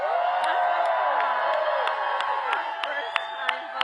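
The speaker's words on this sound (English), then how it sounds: "let's applaud our first-time voters." A large crowd at a Kamala Harris rally in Las Vegas cheers and applauds steadily, with whoops and shouts rising over sustained clapping throughout.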